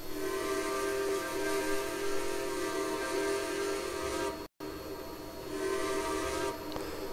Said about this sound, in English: Of course, here's their whistle.